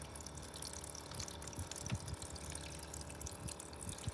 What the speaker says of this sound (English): our excess water out of the cooler with my electric faucet, which is much better